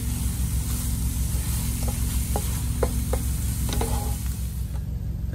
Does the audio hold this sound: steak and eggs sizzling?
yes